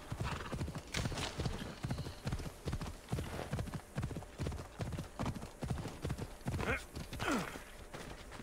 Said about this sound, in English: Don't actually really need the horse, but we'll take it for a little stroll.